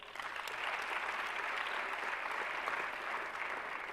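An audience at a women's forum on science and technology claps for an award recipient in a hall, with a full, even burst of applause sustained for several seconds, heard at a distance.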